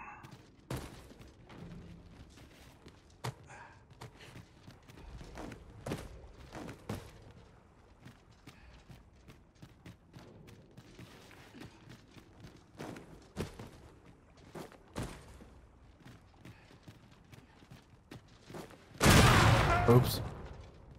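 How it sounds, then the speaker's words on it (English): Exploding barrels in Dragon's Dogma 2 go off with a loud, dense broadband burst near the end, after a stretch of scattered thuds, footsteps and quiet game activity. "Exploding barrels."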